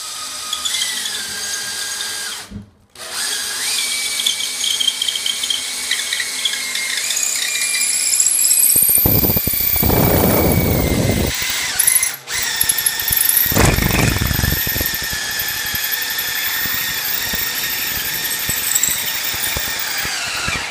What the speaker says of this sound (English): I'm drilling into a dot and damp wall by a close rail.